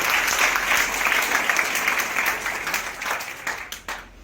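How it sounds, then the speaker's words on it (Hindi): A crowd at a career guidance seminar in a hotel hall claps loudly and steadily, the applause thinning out toward the end into a few scattered separate claps. "ताली बजाओ ऐसे बच्चों के लिए"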